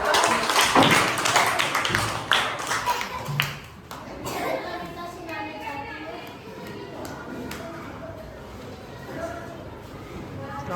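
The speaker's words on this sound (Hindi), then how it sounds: "तालियां बजाओ" Schoolchildren clapping for a pupil in a classroom, a lively burst of close, scattered claps over the first few seconds that fades into children's voices and chatter.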